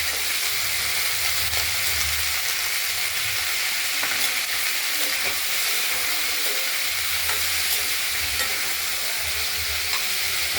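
Flat beans fry in oil in a wok, producing a continuous bright sizzle and hiss with occasional soft scrapes as they are stirred, close and steady throughout, with no voices.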